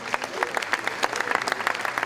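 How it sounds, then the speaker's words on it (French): A crowd gathered at a rugby league tribute meal applauds Monsieur Marquillot as he arrives, brisk overlapping claps from many people, fairly close, with some voices murmuring underneath. "On l'applaudit."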